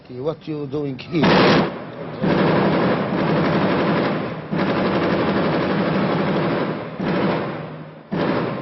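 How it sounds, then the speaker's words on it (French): Israeli heavy machine gun fire during a 2001 clash, long sustained bursts broken by brief pauses, loud and fairly close, with a voice talking briefly at the start. "De la mitrailleuse lourde israélienne."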